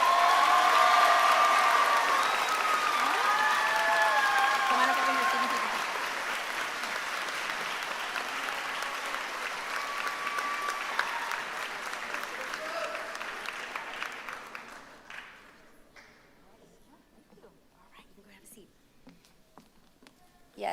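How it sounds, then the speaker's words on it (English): Sustained audience applause fills a large hall at the Harlingen School of Health Professions 2023 commencement ceremony. It is steady and full at first, then fades out after about fifteen seconds into near quiet. "So please join us in giving him a round of applause."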